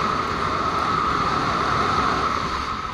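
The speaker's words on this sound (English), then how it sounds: "It's very windy, as you could just hear there" Strong wind at an outdoor kart track, a loud, steady roaring rush buffeting the microphone for a few seconds, with no voices.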